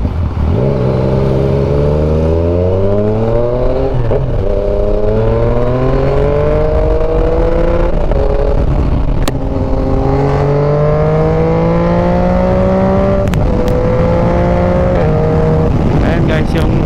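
A Yamaha Tracer 900 sport-touring motorcycle accelerates hard through several gears, its engine note climbing steeply in each gear and dropping at every quick-shifted change, loud and close the whole time.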